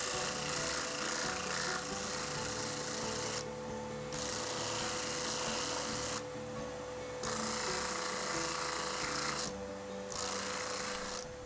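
A spinning sanding wheel works a wooden tobacco pipe, giving a continuous raspy abrasive rub over a steady motor hum, with brief pauses as the workpiece is lifted and pressed back on.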